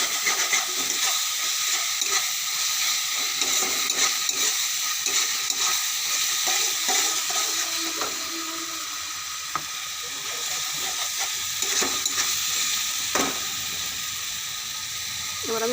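Spice masala with sugar sautéing in a pan gives a loud, continuous sizzle and hiss, broken by occasional scraping stirs, easing slightly toward the end.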